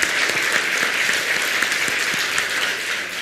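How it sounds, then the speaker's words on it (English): A crowd applauds three Vietnamese start-up presenters with a dense, steady wash of clapping that holds evenly for a few seconds before tapering slightly, with no voices on top. "Give them a big round of applause"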